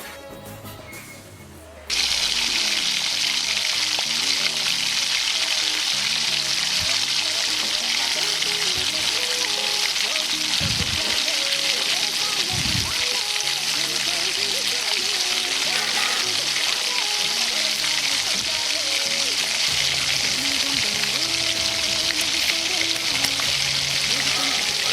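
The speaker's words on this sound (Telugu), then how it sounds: "వేసేసి కాసేపు అలా కలుపుకొని కొంచెం కలర్ వచ్చేంత వరకు కలుపుకోవాలి." Green chillies sizzle steadily in hot oil in a pan while being stirred, a loud continuous frying hiss for chicken pulao that starts abruptly and holds constant, with occasional low scrapes of the spoon.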